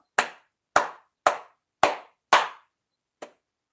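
Five sharp, evenly spaced hand claps ring out alone in a quiet room, followed after a pause by a softer, shorter half clap.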